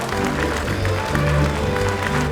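Steady applause from an audience welcoming a guest onto a stage at a Thai event, a continuous wash of clapping with a low musical hum underneath throughout.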